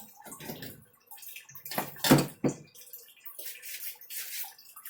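Liquid runs through a hose into tanks during home ethanol making, a close, uneven pouring and gurgling flow that swells and fades in bursts, heard alone.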